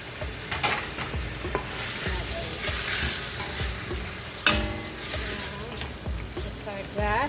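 Spices and ground beef being stirred in a hot pan during preparation of a whole sheep head at home, a steady scraping stir over continuous sizzling and frying, with brief faint voice traces.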